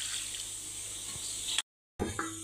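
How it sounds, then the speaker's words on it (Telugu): Water is poured into flour for bhatura dough, a soft steady trickle under kitchen background, followed by a brief silent gap and a short splash. "బాగా మిక్స్ చేసుకున్న తర్వాత కొద్దిగా వాటర్ వేసి చపాతీ పిండిలా కలుపుకోవాలి."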